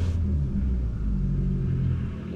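A $1,500 car's engine rumbles loudly and steadily as it approaches, a deep low drone that holds throughout with no voices.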